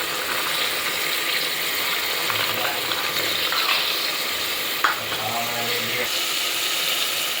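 Soaked peas tip into hot oil in a pan and fry with a loud, steady sizzle, with a few clatters and scrapes rising above the hiss while the frying carries on with no letup.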